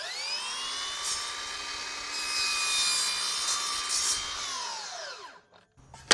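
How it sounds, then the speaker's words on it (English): A miter saw cuts through wood molding with a loud, steady motor whine that holds for about five seconds, then spins down and stops, leaving a few faint clicks at the end. "I'm going to hold that line up against the kerf in the fence and"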